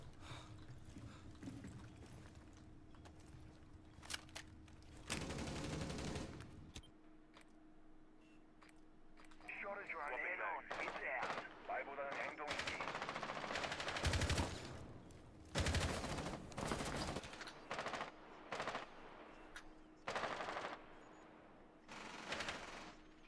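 Gunfire in a Rainbow Six Siege match, with several sharp, loud bursts of automatic fire spread across the stretch, some short and some sustained, between quieter gaps with faint mechanical clicks.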